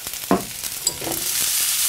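Cabbage and onion fry in ghee in a pan, a steady close sizzle with a couple of stirring knocks and scrapes, no voices.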